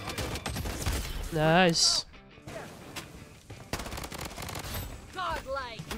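Assault rifle fire in the shooter game Bloodstrike crackles in quick bursts of shots, loud and close, mixed with in-game effects while a player talks over parts of it.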